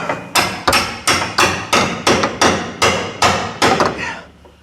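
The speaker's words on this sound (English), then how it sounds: "use a fucking chisel and a hammer. Fucking knock a hole in that." About a dozen sharp metal strikes of a hammer on a chisel, knocking a hole in a Ford Ranger crossmember, ring out in an even rhythm, each a loud close blow, before the last one fades into quiet.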